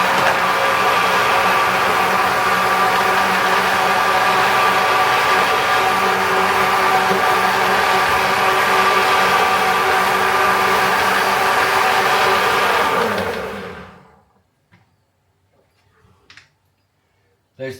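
A blender whirs loudly and steadily, mixing a homemade protein shake with peanut butter added while the blade spins, then winds down and stops, leaving a few faint clicks.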